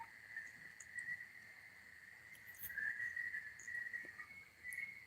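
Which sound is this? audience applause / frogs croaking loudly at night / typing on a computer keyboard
frogs croaking loudly at night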